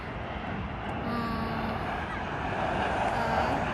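A military airplane coming in to land outdoors, its broad, steady engine roar rising slightly as it approaches, with wind-like rushing noise throughout.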